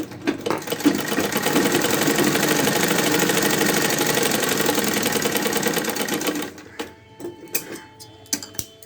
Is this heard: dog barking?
no